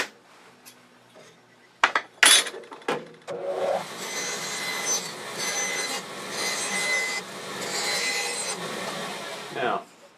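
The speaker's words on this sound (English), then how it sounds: "taking a 4-inch square, marking the center, scribing, 4-inch circle, and cutting it on a bandsaw" A bandsaw cuts a 4-inch oak square into a circle, with a few sharp knocks at the start and then a sustained, close, rasping whine of blade through wood for several seconds before stopping.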